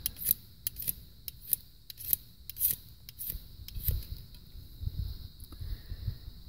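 Bishop single-bevel broadhead stroked along its bevel on a black DMT extra-coarse diamond sharpener, giving a run of short, close scraping rasps with metallic ticks, each pass separate and crisp over low background rumble.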